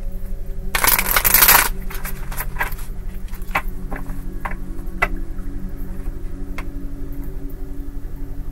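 Tarot cards are shuffled in a dense, riffling burst lasting under a second, followed by scattered soft clicks and taps as the cards are handled, close and clear with no voice.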